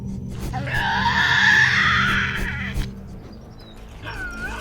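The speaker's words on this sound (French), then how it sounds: "Ce diable de Tasmanie femelle se laisse guider par les grognements caractéristiques émis par ses semblables." A female Tasmanian devil in wild Tasmanian forest gives a loud, harsh, screeching cry lasting about two seconds, then fades into quieter rasping growls and a brief, fainter squeal near the end.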